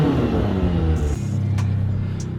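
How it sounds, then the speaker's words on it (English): An 800 hp McLaren V8 revs in a deep, loud, close rumble that swells and then falls back toward idle, with a few sharp mechanical ticks near the end. "Let's also get like a rev clip, because this thing sounds insane."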